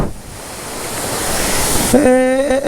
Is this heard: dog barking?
no